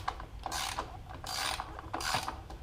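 A ratchet clicks as it backs 10 millimeter nuts off running board bolts on a Mercedes ML350, three short bursts of rapid close clicking with brief pauses between.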